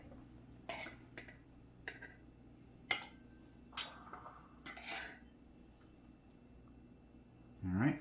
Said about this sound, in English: Let me stir my rice.